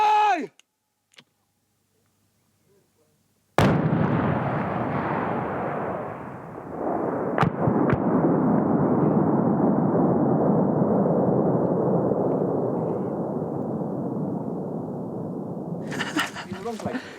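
A bomb squad's controlled detonation goes off as a single loud, sudden blast after near silence, then rolls into a long, heavy rumble that fades slowly over many seconds. A brief voice is heard just before the blast.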